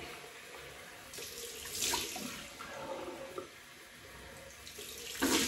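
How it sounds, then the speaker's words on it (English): A bathroom tap runs cold water into a sink for a rinse during a wet shave with a Merkur 43c safety razor, a steady close splashing stream with a few louder gushes as hands move through it. "Cold water rinse."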